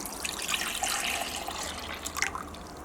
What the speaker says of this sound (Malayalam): ഈ ജാറിലേക്ക് നമ്മുടെ ജെല്ലോ ഒഴിക്കുക.